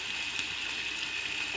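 Ginger paste hits hot tempering oil with fried seeds for a red gram and ridge gourd curry, giving a steady, close sizzle and crackle that holds evenly throughout, with no talking.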